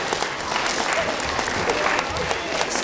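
Loud, close crowd applause erupts at a German-speaking gathering, a dense roar of clapping with some voices mixed in, continuous and full for the whole stretch.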